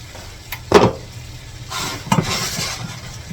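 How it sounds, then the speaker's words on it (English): Vegetables with softened potato sautéing in an open pan with the lid off; a steady sizzle runs throughout, broken by a few scraping stirs of a utensil against the pan, close and clear with no talking. "And let this saute a little bit."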